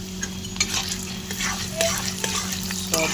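Chana dal and spices fry in a pan under close, constant sizzling, with spoon stirs and a few faint metallic taps against the pan, and no one speaking.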